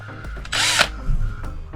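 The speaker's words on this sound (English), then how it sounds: "the other one here, we'll drill that out real quick" A power drill whirs in one short burst, drilling a screw hole in an RV bed strut mount, close and fairly loud, lasting under half a second amid quiet handling noises.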